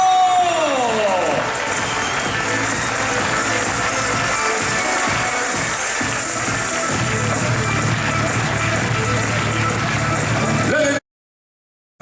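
A crowd at a podium ceremony for the 2016 mountain bike marathon world championship claps, cheers and whoops loudly and continuously, with shouts mixed in, before cutting off abruptly near the end.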